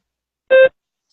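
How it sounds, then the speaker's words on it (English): A short, steady electronic prompt beep from a mock speaking test, sounding once, clear and alone, then cut off into silence. "Begin speaking after the beep."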